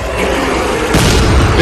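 A shotgun blast in the sci-fi horror game Dead Space 3 lands as one sharp, loud boom midway through, over a steady dense background of game noise.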